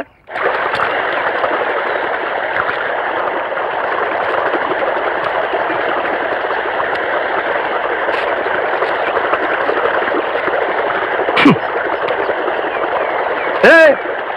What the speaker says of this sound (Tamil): தோட்டத்துல யாருமே இல்லைங்கிற வாக்கியால இவ்வளவு தண்ணி போகுது.